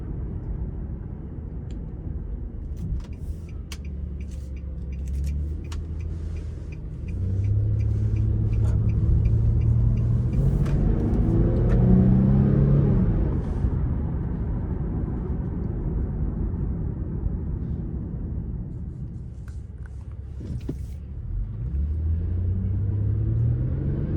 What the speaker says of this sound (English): Get a nice sound from the engine